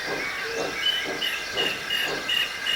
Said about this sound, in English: Just then, Edward puffed in